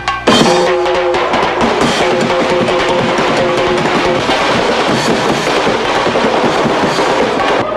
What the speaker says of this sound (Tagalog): Siyempre, hindi kumpleto ang bagong taon kung walang putukan.